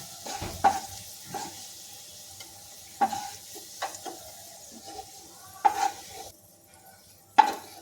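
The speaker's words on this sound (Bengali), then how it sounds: "দেখুন আলুগুলো ভালো করে ভাজা হয়ে গেছে, এবার এটাকে আমরা তুলে নেব।" Potatoes frying in oil in a pan, a soft continuous sizzle with occasional clinks and scrapes of a utensil against the pan, close and quiet.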